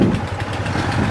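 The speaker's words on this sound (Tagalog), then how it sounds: "Daming tricycle dito ah." A motorcycle-driven tricycle idles nearby, a steady low rumbling engine putter holding even throughout the short stretch, with no one speaking.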